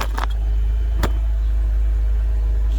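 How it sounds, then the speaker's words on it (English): A BMW E90 engine idles steadily after a fuel pump and fuel regulator replacement, a constant low rumble running throughout, with a brief metallic click or clatter near the start and another partway through. "The car is idling beautiful."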